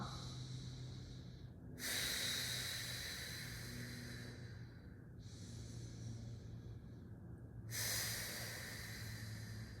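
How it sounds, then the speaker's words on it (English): Strong, forceful breaths during a home workout routine, a sharp hissing burst near two seconds and another near eight seconds, with steadier breathing in between, close to the microphone and with no talking. "Inhale and exhale nice and strong."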